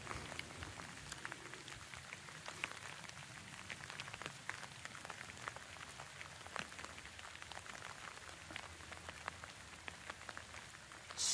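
Rain patters steadily on surfaces during a passing rainstorm along a trail, dense crackling drops with occasional sharper hits, close and even throughout with no voices.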